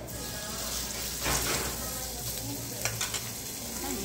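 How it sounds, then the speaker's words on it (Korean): Beef skirt steak sizzling on a grill at a Korean beef restaurant, a dense steady hiss and crackle held close throughout, with a few faint clinks and shifting sounds as the meat is moved. "잠시 고기 굽는 거 감상하실게요."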